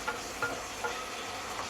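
Pork curry is stirred in a pan over a constant low sizzle, with several soft scraping strokes of the spoon recurring roughly every half second.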